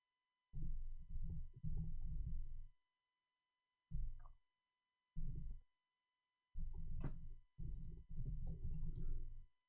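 Computer keyboard typing in quick bursts of soft clicks, several runs separated by short pauses, close and fairly quiet under a faint hum, with no talk.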